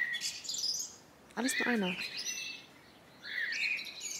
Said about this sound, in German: Er sitzt auf dem Dach und zwitschert von sich her.